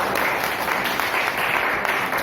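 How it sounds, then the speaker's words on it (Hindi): An audience at a monthly celebration program breaks into brief, dense applause, a steady wash of many hands clapping at constant loudness. "एक बार आप सबके लिए ताली हो जाए।"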